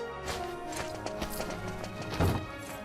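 Horse hooves clip-clop at a steady trot in the video game Dragon Quest VIII, fairly close and clear, with a heavier thud near the end and no talking.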